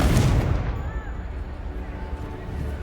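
A Confringo fire spell blasts in Hogwarts Legacy, opening with a loud, close boom that fades into a low rumbling tail over a couple of seconds.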